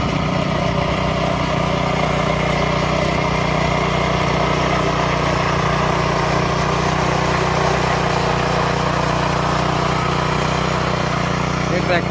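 A tractor engine drones steadily and loudly while a field is ploughed on a farm in Konkan, India, a continuous unbroken mechanical rumble throughout with no clear talk over it.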